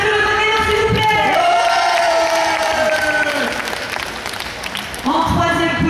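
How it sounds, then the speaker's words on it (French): Audience applause for the winner of a points-based game, dense and steady, with some cheering over it and voices and music-like tones running through it, easing off briefly before picking up again near the end. "vous applaudissez Arthur le gagnant, s'il vous plaît"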